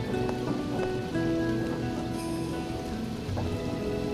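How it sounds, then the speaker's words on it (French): Rain falls at night in a steady, fairly loud patter on surfaces, with a few faint tonal sounds mixed in and no voices. "On dirait qu'il commence à pleuvoir."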